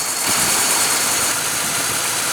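A 2016 Lexus LX570 with its 5.7 L V8 idles at a steady, even rumble, heard close and continuous with a hissy high-end wash and no talk over it.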